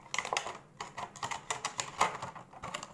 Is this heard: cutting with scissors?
yes